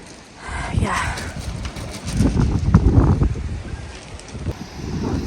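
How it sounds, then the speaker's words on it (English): Strong gusts buffet the microphone outdoors on a roof ridge, a rumbling low roar swelling and easing over several seconds. "I don't know if you can hear me because it's super windy"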